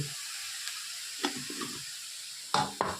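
Salt, chilli powder and garam masala frying in a pan, a soft steady sizzle close by, broken by a few scraping stirs, with two louder scrapes near the end.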